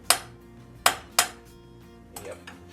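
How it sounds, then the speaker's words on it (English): A butter knife taps sharply against a dish while butter is scooped for mac and cheese, three crisp close clinks followed by a softer scrape. "I'm just going to take my butter knife, scoop 1, 2, 3, and 4"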